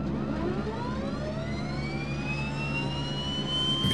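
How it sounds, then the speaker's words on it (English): An aircraft engine starts up in Microsoft Flight Simulator X on an Air Moorea flight to Bora Bora, giving a steady, rising whine over a continuous low rumble that holds throughout. "Let's go ahead and start the other engine."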